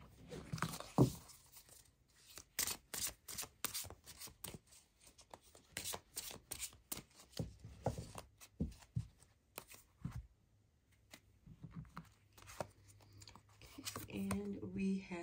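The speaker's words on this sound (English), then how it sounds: "We are going to shuffle up this oracle deck for 2 more cards." An oracle card deck is shuffled in a run of quick papery riffles and slaps that stop and start over several seconds, close and moderately loud, with a voice briefly speaking partway through.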